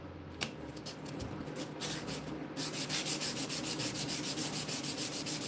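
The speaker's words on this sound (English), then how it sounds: "I just give it a light sanding to knock down any kind of anything that's kind of sticking up" Light hand sanding of a surface, a steady run of rhythmic back-and-forth abrasive strokes that grows louder and faster partway through, close and alone with no talk.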